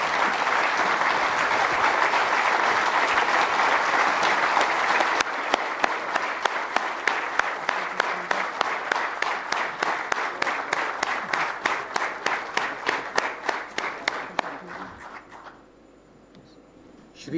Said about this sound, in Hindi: एक बार अपनी सीट पर खड़े होकर जोरदार तालियों के साथ हमारे संस्थापक और अध्यक्ष के जन्मदिन के लिए उनका अभिवादन करें